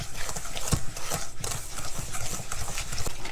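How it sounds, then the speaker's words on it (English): Egg and sugar are whisked together by hand until thick and creamy for donut batter, giving a quick, uneven run of scraping, clicking strokes against the bowl with a sharp knock near the start, close up and with no talking. "I'm going to whisk together the egg and the sugar until thick and creamy."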